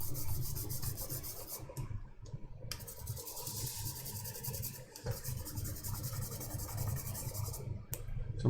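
A brush scrubs old flux residue off a circuit board in steady, rapid back-and-forth rasping strokes, close and continuous, with a couple of brief pauses.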